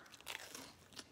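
Close, crisp crunching as someone bites into air-fryer-reheated pizza, a few quick dry cracks packed into about a second, with no voices.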